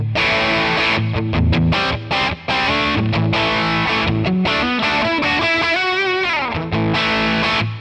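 A distorted electric guitar through the Amalgam Two Rock Classic Reverb Tonex model plays punchy chord stabs and bending lead lines, loud and unaccompanied throughout.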